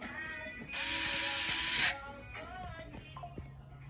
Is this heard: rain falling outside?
no